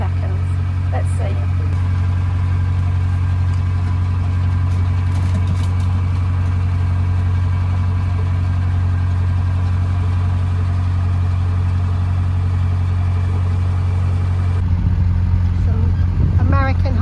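Steady low drone of a rental boat engine running on a river, continuous and fairly loud throughout, with a slight change near the end.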